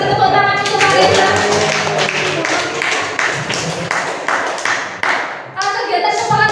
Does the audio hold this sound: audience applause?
yes